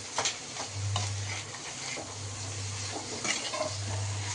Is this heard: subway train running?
no